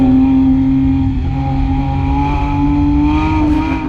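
Porsche 911 GT3 engine driven hard: a loud, steady high-revving drone with a strong sustained tone holding near-constant pitch, heard from inside the car with no talk.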